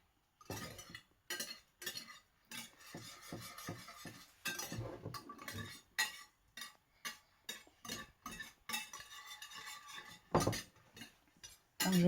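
Spoon stirring millet grains with butter in a pot for dèguê, scraping and clinking against the metal in an irregular series of close, moderately loud strokes with brief pauses.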